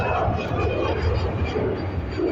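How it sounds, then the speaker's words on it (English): An Airbus A320 on flight EI 586 to Malaga gives a dense, rumbling engine roar heard briefly and steadily, with a person talking over it. "Let's just get this flight, EI 586, heading over to Malaga,"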